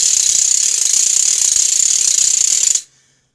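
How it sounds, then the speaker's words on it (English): A ratchet cranked continuously in a loud, sustained rattling whir that stops abruptly near the end, leaving a brief fading ring. "you're going to be able to hold the ratchet in your hand"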